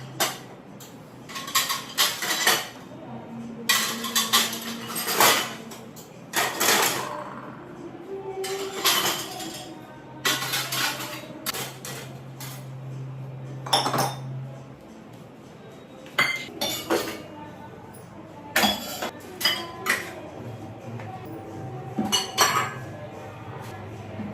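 Washed steel dishes and utensils set away in a home kitchen, bursts of metallic clinks and clatters repeating every few seconds, close and fairly loud, with a faint low hum between them.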